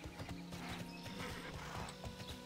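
Steady galloping hoofbeats of a ridden horse in the online fantasy game Tera, a quick rhythmic clip-clop that repeats without pause over soft background music, fairly quiet.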